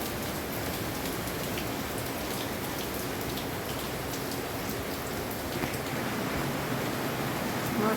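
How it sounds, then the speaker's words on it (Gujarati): Heavy, fast rain pours down in a continuous dense roar of drops and splashing on surfaces, steady and loud throughout with no voices. "એકદમ ફાસ્ટ વરસાદ ચાલુ થઈ ગયો, જોરદાર"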